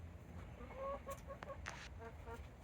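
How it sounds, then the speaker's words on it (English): Hens in a homestead coop at bedtime, one squawking with short shrill clucks and calls scattered over a faint, quiet background. "Henny Penny up there just a squawking"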